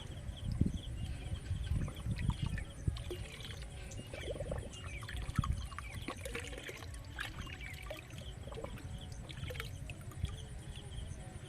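Liquid waste decomposer mixture is poured out, a faint, close trickle and splash of liquid running steadily with scattered small drips throughout.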